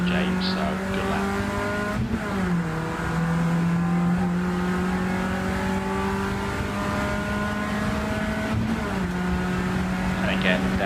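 A race car engine drones loud and steady at a Rockingham trackday, its pitch holding high then dipping at gear changes before climbing again down the straight, with a voice talking over it.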